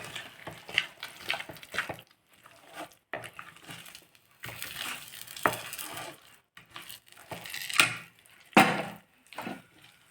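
Rice-coconut dough being roasted and stirred in a pan for a tiffin dish, with irregular scraping and knocking strokes in uneven bursts and short gaps, heard up close with no talk.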